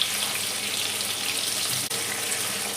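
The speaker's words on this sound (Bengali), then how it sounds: "পপকর্ন কিন্তু একদম ডুবো তেলে ভাজতে হবে।" Chicken popcorn deep-fries in a pan of oil, giving a continuous, even sizzling hiss close by with no talk.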